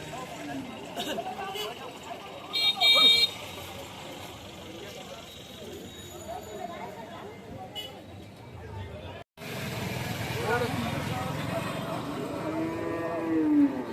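Cows and cattle low at a busy village cattle market, with moos rising over steady crowd chatter and people talking nearby, and a louder, drawn-out call toward the end.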